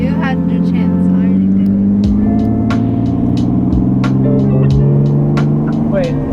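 Lexus IS300 with newly installed headers, its exhaust droning loud and steady from inside the cabin as the revs rise and fall, with occupants talking over it.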